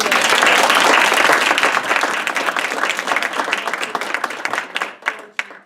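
Audience applause at an evening business forum at Harvard Business School: dense, loud clapping that gradually thins out and fades, with a few scattered claps lingering at the end.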